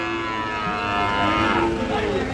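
A Friesian or crossbred bull calf of about seven months moos at a cattle market, a drawn-out, fairly loud call rising and falling over the crowd's background murmur.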